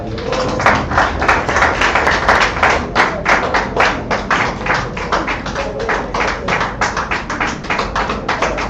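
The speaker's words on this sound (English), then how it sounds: "please, with a round of applause" A university audience applauds at the launch of an actuarial and statistics society week in Ghana, with loud, close, sustained clapping that carries on for several seconds.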